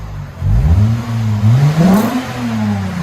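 A 2.5-liter Lexus IS 250 fitted with a Megan Racing axle-back exhaust with Vibrant mids, revved loud and close in several quick throttle blips that rise and fall over about three seconds.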